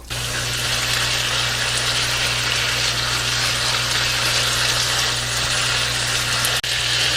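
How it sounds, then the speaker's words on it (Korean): Beef for japchae, seasoned with soy sauce, mirin, pepper and sesame oil, stir-fries in a pan with a loud, continuous sizzle that stays constant and close throughout, and no one speaks. "물기 없을 때까지 볶아주는데요"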